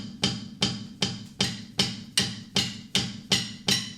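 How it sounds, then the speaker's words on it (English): A drum kit plays a steady four-on-the-floor beat, evenly spaced kick hits with a bright cymbal or tambourine-like crash on each beat, about ten strikes at a moderate tempo, close and without voices. "So during the verse, it's just a 4 on the floor."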